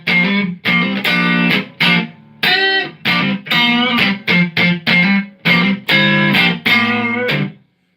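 Electric guitar run through a compressor pedal with the bloom control turned up, feeding a Mesa amp: a string of sustained, distorted chords and notes in short bursts with brief gaps, loud and close, no talk.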